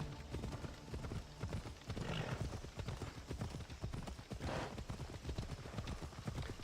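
Steady clip-clop of horse hooves from the game Assassin's Creed Odyssey, a fast continuous gallop rhythm heard up close under a dense game soundscape, with no talking.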